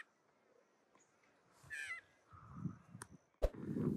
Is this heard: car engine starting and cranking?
no